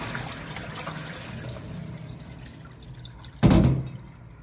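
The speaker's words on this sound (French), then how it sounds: "Donc on va vider l'eau." Rinse water drained off freshly washed Japanese edamame, a soft trickle and dribble that ends in a brief louder splash and pour near the end, close by.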